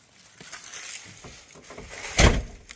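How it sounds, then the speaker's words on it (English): A door is pushed shut with one firm, thumping close near the end, after a few faint clicks and rattles. "Bray, close the door."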